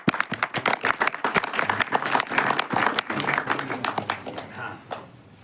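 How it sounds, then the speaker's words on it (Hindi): Audience applause at a religious and yoga gathering in India: dense, loud clapping from many hands that holds steady for several seconds and then thins out toward the end. "ताली बजाओ ताली बजाओ"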